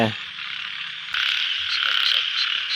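A dense chorus of frogs croaking continuously, with a loud close cluster of calls rising sharply partway through and staying full to the end.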